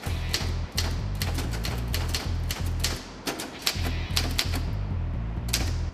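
A typewriter clatters with rapid, close keystrokes in an uneven rhythm, with brief pauses and a few heavier strikes.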